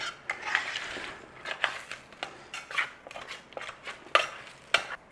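Potatoes roasting in a tray are stirred with a utensil, producing a series of light, irregular scrapes and clinks against the metal, close up and without talk.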